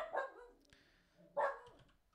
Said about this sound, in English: Kramer is barking.